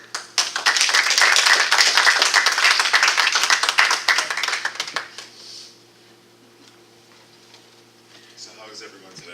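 A live audience applauds to welcome a speaker, with loud, dense clapping for about five seconds that then quickly fades into quiet.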